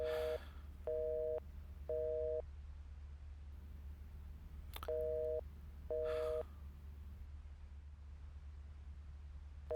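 A repeating phone tone from a mobile with no network signal, short beeps in pairs separated by pauses, faint over a low hum.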